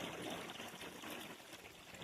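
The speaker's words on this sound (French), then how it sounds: "Un beau ruisseau, ça doit être millénaire ça, ce ruisseau-là." An old stream flows across snowy cold ground in early spring, a steady close babbling and trickling wash with no voices.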